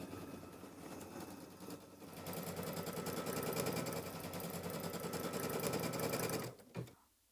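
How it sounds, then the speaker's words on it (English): A sewing machine stitches a square placement line on a mini quilt, a steady close mechanical whir that builds and runs evenly for several seconds, then stops abruptly with a brief final clunk. "I'm going to go ahead and put my foot down, and it's going to stitch out a square,"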